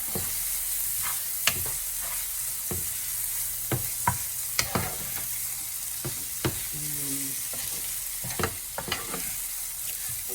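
Shrimp tossed with Cajun seasoning sizzle steadily in a hot pan. Sharp clacks and scrapes of a utensil against the pan come at irregular intervals while the food is stirred.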